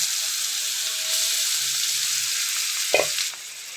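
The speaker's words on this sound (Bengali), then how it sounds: "তাই চলো মাছটা দিয়ে দিই" Two pieces of rohu fish frying in hot oil in a wok, a steady close sizzle with a brief clatter as something is moved near the end.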